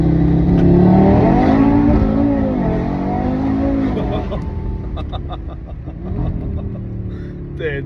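Tuned Audi RS3 8Y pulling hard through the gears, a loud continuous engine roar with rising pitch sweeps, then tires spinning as traction breaks, with voices talking over it near the end.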